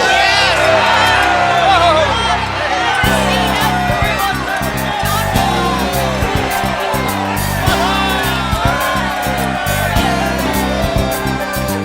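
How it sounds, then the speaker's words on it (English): A crowd shouts, whoops and cheers in a staged retelling of the Battle of Jericho, loud and continuous over a driving musical backing, with scattered voices yelling throughout. "Shout, yell, scream, so that the heavens can hear you."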